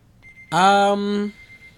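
Electronic kitchen timer beeping like a microwave: one short high tone, then a loud harmonic-rich beep of about a second, clear and close.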